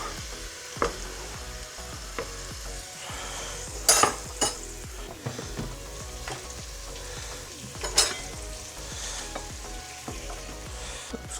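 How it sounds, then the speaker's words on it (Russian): Steady sizzling and crackling of onions frying in a pan over low heat, with occasional louder pops and a few faint clinks of a utensil. "Потихонечку это жарится."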